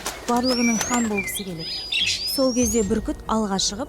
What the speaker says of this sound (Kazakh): Құстар шықылдап, шулап кетеді.